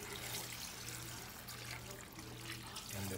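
Water poured over freshly grated coconut to draw out coconut milk for Trinidad-style curry goat, a close, soft continuous pouring and trickling under a faint steady hum.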